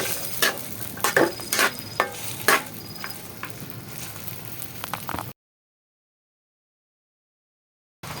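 Grated carrots are stirred and fried in a pan for carrot semolina halwa, with a steady sizzle under repeated scraping strokes of a spoon, close up, followed by a stretch of silence.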